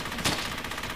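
Gunfire in the World War II shooter Brothers in Arms: Hell's Highway, a sustained rattle of shots with one louder burst near the start, steady and close throughout with no talking.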